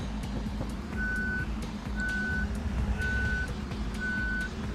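Four evenly spaced reversing beeps sound from a bus in Bus Simulator Ultimate, clear tones about once a second over a low idling engine rumble, with no talk.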